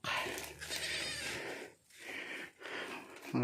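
Young goat kids bleat close by in a few short, wavering cries separated by brief pauses, fairly quiet overall.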